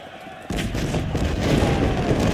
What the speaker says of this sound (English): Artillery's gonna cut them up.